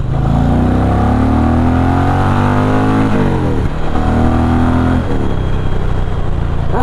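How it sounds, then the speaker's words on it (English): An Indian Challenger motorcycle with the Power Plus engine revving hard, its loud, close engine note climbing through the gears with brief dips at each shift, then pulling on steadily. "Let's give it a big boot."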